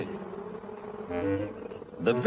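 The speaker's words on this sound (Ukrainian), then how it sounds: "Джеймсова відповідь потонула у дзищанні." A swarm of bees hums and drones, swelling louder near the end, beneath a speaking voice.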